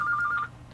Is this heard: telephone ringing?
yes